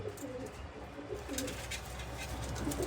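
Pigeons coo softly and repeatedly in a loft, low rolling calls under steady background hum.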